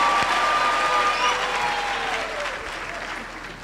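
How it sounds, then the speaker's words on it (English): Sustained applause from a large crowd at a university graduation ceremony, a dense wash of clapping that tapers off gradually, with a few faint voices and a brief whistle-like tone in the hall. "can we please give them another big round of applause?"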